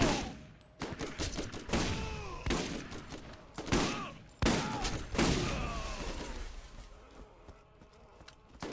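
Heavy gunfire in a Borderlands battle, a string of loud, sharp blasts spaced about a second apart with ringing echoes and crackling debris between them, fading into scattered softer shots.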